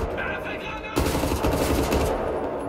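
Gunfire in a video game, a rapid automatic burst of close, loud shots that cuts in suddenly and rattles on for over a second before trailing off.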